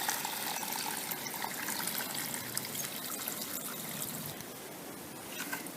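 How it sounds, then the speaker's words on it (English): Water poured off sediment flushed from a water heater into a 5-gallon bucket makes a steady, close trickling and gushing stream, fairly loud and heard alone without talking. "pour some of the water off here so we can get a feel for the material that was taken out of here"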